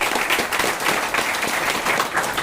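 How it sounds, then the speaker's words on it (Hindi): At a DXN marketing meeting hall, a crowd of audience members claps loudly and continuously. The applause stays dense and even from start to finish with no talking over it. "एक जोरदार ताली आप सबके"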